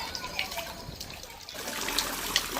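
Water spraying and trickling from the built-in sprayer of an inflatable kids' swimming pool, a continuous close hiss of falling droplets with a brief dip midway before the spray picks up again.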